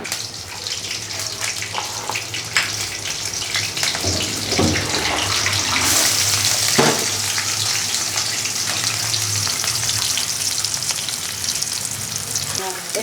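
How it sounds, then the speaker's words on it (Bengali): Onion and green chilies frying in oil on a stove, a dense continuous hiss and crackle that grows louder midway, with occasional clatter of stirring and faint voices in the background. "এখানে পেঁয়াজ আর কাঁচামরিচ দিয়ে সুন্দর করে কষে নিচ্ছি"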